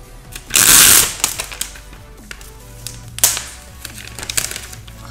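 Cardboard and plastic rustling and tapping while an iPad (2017) box is opened, with a loud crinkly burst early, then scattered close handling clicks and scrapes.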